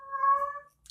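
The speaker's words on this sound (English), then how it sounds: "Every time I go live, he does this lovely cat call at night." A single drawn-out meow from a house cat at night, close by and clear, rising and holding steady before fading, with no other voices.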